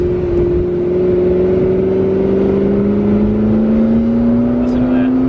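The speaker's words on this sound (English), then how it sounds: "you got the nice rumbly exhaust." A McLaren 650S twin-turbo V8 revs up with a steady rising drone, turbos spooling over a low rumbly exhaust, loud and close throughout with a faint brief chirp near the end.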